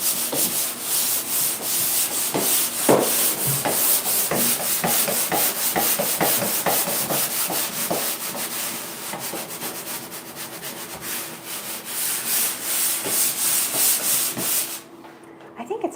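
Steady, loud abrasive rubbing of a sander working a wooden surface, continuous and harsh with rhythmic strokes, close by, cutting off near the end.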